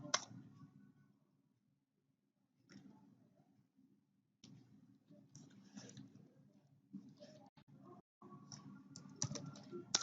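Typing a show VLAN brief command on a computer keyboard while configuring a network switch: bursts of close, quiet key clicks in short runs separated by pauses, with low background hum.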